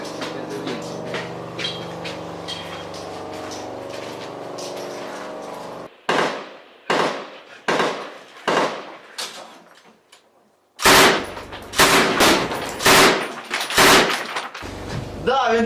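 Gunfire during combat in Ukraine: a sustained burst of rapid shooting, then a series of loud, sharp single shots with echoing tails, separated by short pauses.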